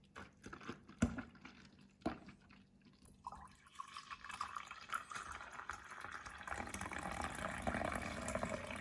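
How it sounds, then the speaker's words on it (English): Homemade grape milkshake pours into small glasses one after another, a soft liquid trickle and drip that starts with isolated splashes and builds into a steady, moderately quiet stream with no talking. "Now pour the prepared homemade grape milkshake into dinky glasses one by one."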